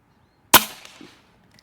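A single sharp crack from a JTS Airacuda Max .30 caliber air rifle, fired left-handed, tailing off quickly into near silence, with a faint distant tick of impact shortly after.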